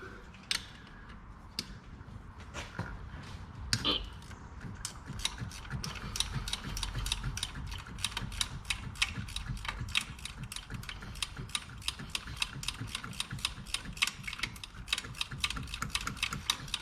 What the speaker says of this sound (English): Now I'm going to take that bolt out as well to relieve the bracket.